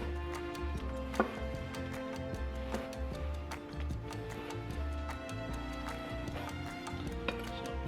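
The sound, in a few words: knife slicing rolled ham on a cutting board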